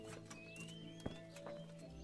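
Horses in the medieval setting of Kingdom Come: Deliverance, with steady clip-clop of hooves, a snort and a brief whinny over a low, continuous game ambience with a faint tonal music line.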